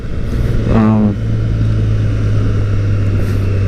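Triumph Street Triple R motorcycle riding through road traffic, a loud continuous engine drone with heavy wind rush, and a brief high tone from a passing vehicle early on.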